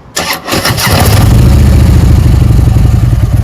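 A Harley-Davidson Twin Cam touring motorcycle with a faulty variable exhaust valve cranks briefly, then catches and settles into a loud, close, steady idle with a thumping rumble and no talking.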